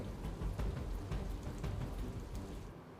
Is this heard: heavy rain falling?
yes